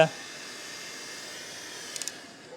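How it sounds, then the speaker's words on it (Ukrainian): Cooling fans of a Goal Zero Yeti power station running under load, a steady, moderate broadband whir that stays even throughout, with a few faint clicks near the end. "До речі, чуєш, включились вентилятори."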